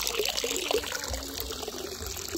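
Water trickles and drains steadily out through a small hole in a plastic bag outdoors, a continuous soft dribbling and splashing with no voices.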